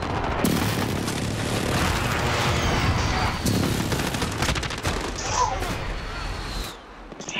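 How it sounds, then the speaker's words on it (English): Precision airstrike explosions in Call of Duty, several heavy booms and blasts in quick succession with crackling gunfire in between, loud and close before fading out at the end. "Enemy precision airstrike"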